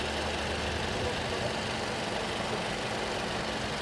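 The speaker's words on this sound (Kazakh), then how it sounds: "Міне қозғалтқыш." A used car's engine idles steadily with the hood open, a constant low rumble and broadband hum with no change in pitch.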